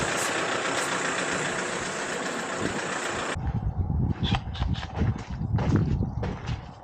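A broadband tractor engine roar cuts off partway, leaving a lower idling rumble with irregular knocking pulses, moderately loud and close.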